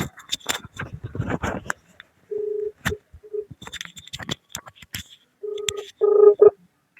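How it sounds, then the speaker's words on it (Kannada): A phone call being dialed during a prank call: clicky key-like taps, then several short bursts of ringback tone that grow louder toward the end, with brief voice fragments between. "ರಿಂಗ್ ಆಗ್ತೈತೆ ಫೋನು."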